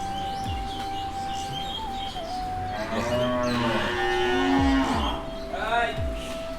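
Cows at a dairy cattle farm give several loud, drawn-out moos in sequence, the deep calls swelling in the middle, with faint bird chirps and outdoor ambience around them.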